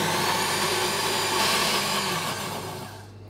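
A kitchen blender whirs loudly and steadily while blending wild garlic pesto, a close, constant motor roar that holds for a few seconds and then begins to wind down and fade at the end.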